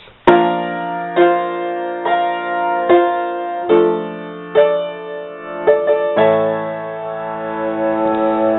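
Piano chords from the Lord of the Rings Gondor theme are struck one after another in a steady rhythm, about ten in all, ending on a longer held chord, with no voices.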